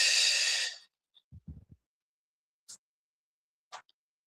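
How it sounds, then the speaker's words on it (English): A single deep breath drawn in close to the microphone during a guided relaxation session, a long airy inhale of nearly a second, followed by quiet silence broken by a few soft clicks and taps. "when you breathe in, I say take you some good breaths"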